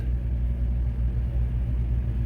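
A big pickup truck's engine idling after a jump start from a nearly dead battery, a steady low rumble, close and constant, with no speech.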